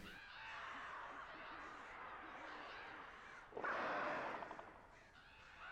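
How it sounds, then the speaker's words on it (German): Crows caw in the video game Alan Wake: a low, continuous flock murmur swells into a sudden loud burst of harsh cawing that fades after a couple of seconds, fairly quiet overall. "Wenn ihr dieses scheiß Geräusch hört, dann könnt ihr sicher sein, dass diese scheiß Vögel kommen."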